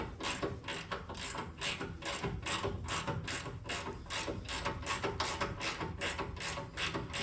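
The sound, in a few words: ratchet breaking loose Raptor sway bar bolts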